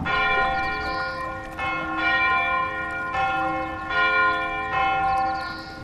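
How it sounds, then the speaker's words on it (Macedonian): Bells of a small church ring in a slow, even sequence of resonant metallic strikes, each tone sustaining and overlapping the next, loud and clear with no voices. "и чукање на црковните камбани од малата црква"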